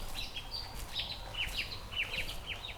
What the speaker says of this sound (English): This golden fronted leaf bird.